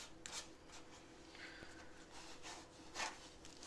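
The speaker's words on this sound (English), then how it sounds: "Go over this with a tack cloth all the way" Quiet, steady rubbing as a tack cloth wipes dust and grime off the rusty body of a 1965 Corvair, with soft swishing strokes that swell a few times, alone and close.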